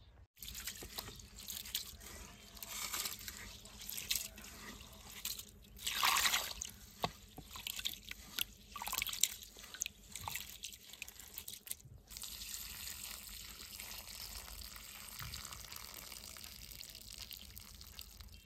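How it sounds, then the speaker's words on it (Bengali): Soaked rice is washed by hand in water, a faint, steady trickle with soft sloshing and dripping that continues throughout. "চালগুলো আমি আগেই ধুয়ে ভিজাইছি, তাও আর একটা ধুয়ে দিয়ে আমি বাইটা নেবো।"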